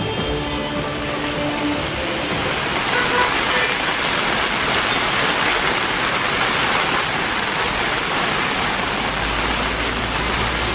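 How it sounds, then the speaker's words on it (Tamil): Heavy southwest monsoon rain in Valsad district, Gujarat, pours in a dense, loud, continuous hiss, with flooded roads nearby and no voices. "குஜராத் மாநிலத்தில் மீண்டும் வேகமெடுக்கும் தென்மேற்கு பருவமழை."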